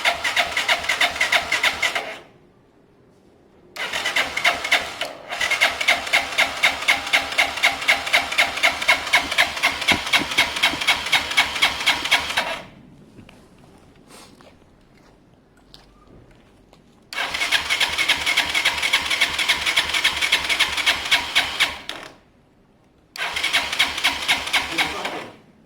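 A motorcycle is kicked over on its main stand with the choke on, its engine catching and running in loud close bursts of rapid firing, cutting out in short gaps before starting again.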